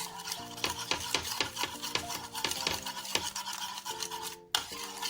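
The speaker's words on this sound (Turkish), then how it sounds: "Yine biraz karıştırıyoruz" A spoon scraping and stirring a homemade natural glue mixture of wheat starch and lemon juice in a bowl, a steady, close rhythm of rubbing strokes with one brief pause near the end.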